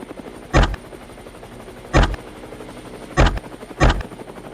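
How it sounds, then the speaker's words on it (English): A helicopter's steady, low rotor-and-engine drone rises above a bayou during a feral hog hunt, cut by four sharp, loud bangs spaced at roughly even intervals. "The helicopter roars to life and lifts above the bayou"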